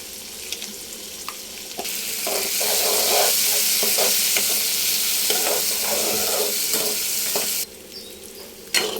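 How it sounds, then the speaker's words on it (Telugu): A loud, continuous sizzle of tomato pieces frying in a hot pan, with a spoon stirring and scraping through it, then the hiss drops away near the end. "టమోటా ముక్కలు వేసుకొని బాగా వేగనివ్వాలి"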